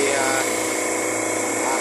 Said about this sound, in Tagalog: 30 horsepower po na compressor, double stage compressor to.